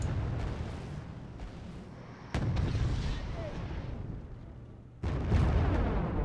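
Cluster munitions going off in the war game Wargame: Red Dragon, a dense rumbling crackle of overlapping explosions with sharper bursts near the middle and the end, steady and loud throughout.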